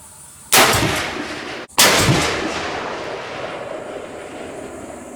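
Two deer rifle shots with a light barrel are fired in open country. Two loud, sharp cracks about a second apart each roll off into a long, fading echo.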